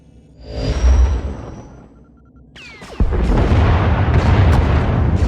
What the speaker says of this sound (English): Enemy is firing. Turbo lasers, missiles, and what looks like transport pods.